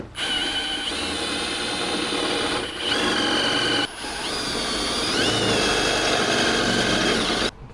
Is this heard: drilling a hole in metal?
yes